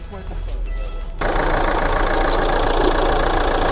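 An engine cranks and catches, then settles into a steady, loud idle that runs on without a break.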